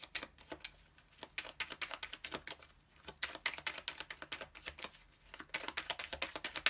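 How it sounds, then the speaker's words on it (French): Tarot cards handled and drawn from a deck, giving quick runs of crisp papery flicks and snaps in several close bursts separated by brief pauses, with no speech. "Je vais reprendre une carte pour la dernière ligne."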